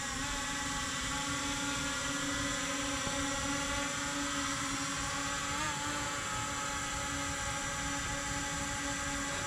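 A Ruko U11MINI drone hovers and flies with a continuous high-pitched propeller whine, steady and fairly close, with a slight pitch wobble as it maneuvers.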